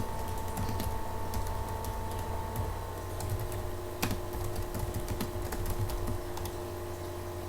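Typing on a computer keyboard with steady, close clicking keystrokes and a few sharper key strikes, faint and alone in a quiet room.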